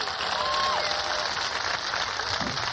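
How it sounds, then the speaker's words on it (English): A comedy show crowd at an outdoor park event claps steadily for a comedian, with a dense, even wash of applause and a brief whistle early on. "Please, a big round of applause, Roger Scheidemann"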